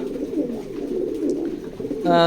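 A pair of checker racing pigeons coo softly in low, rolling murmurs close by, with someone talking over them and a brief tonal sound at the end.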